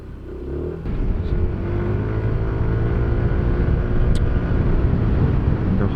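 Yamaha NMAX 155 scooter engine on a test ride in S mode, a steady close drone that rises and holds through a corner with engine braking, with no talk over it.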